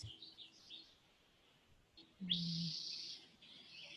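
Birds chirp and call at a moderate distance, with a louder, sustained burst of song in the middle over a quiet outdoor background.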